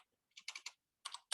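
A computer keyboard clatters with quick bursts of typing, a run of four or five close keystrokes, a brief pause, then two more short clusters, crisp and near with no talking.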